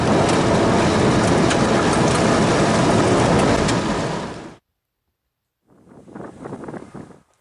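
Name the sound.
freight train, G817 locomotive consist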